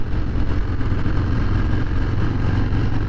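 Engine of a 2023 Harley-Davidson Breakout motorcycle on the road, a steady, loud, rough low-pitched rumble mixed with wind rush, with no change in throttle over the short stretch.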